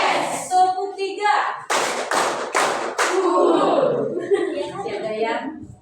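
A small group of children claps in a counted rhythm during a classroom activity, a few sharp hand claps in sequence set between a teacher's spoken counting and the children's voices.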